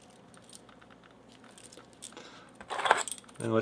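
Metal keys jangle and clink up close while boxed padlocks are unboxed, building from small taps to louder bursts of rattling near the end.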